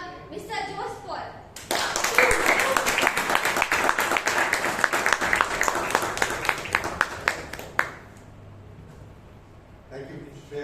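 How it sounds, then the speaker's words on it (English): Toastmasters club meeting audience giving a round of applause to the club president, a burst of dense clapping after a short spoken introduction, loud and sustained for several seconds before fading, with a voice returning at the end. "kindly give a huge round of applause to the president of this club, Mr. Jose Paul"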